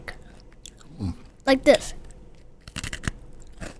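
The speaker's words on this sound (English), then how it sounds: "Now let's do a cookie crunch on the mic." A cookie is crunched and chewed right against the microphone in a few loud, close bites, and someone speaks briefly between them.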